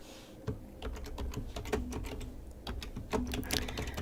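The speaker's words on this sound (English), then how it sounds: "I have a very noisy keyboard." Rapid, uneven clatter of keys on a computer keyboard, close and fairly loud, with bursts of quicker typing and no voices.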